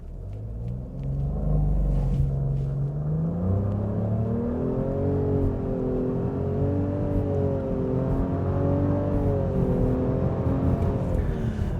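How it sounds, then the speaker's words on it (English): A 2025 Nissan Rogue Platinum AWD in sport mode pulls from a standstill toward 60 mph, its engine droning and rising steadily in pitch under a continuous road rumble, heard from inside the cabin. "let's go ahead and see what we can get 0 to 60 wise this time"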